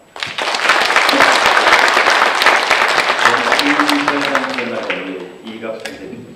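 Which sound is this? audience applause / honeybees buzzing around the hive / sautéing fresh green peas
audience applause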